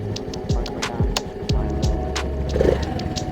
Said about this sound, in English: We can start it up if you want. And there you go, rev it up.